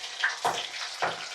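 Dried red chilies drop into hot oil for a raw mango pulihora tempering, giving two or three short, soft bursts of sizzling over a low steady crackle, close by with no talking.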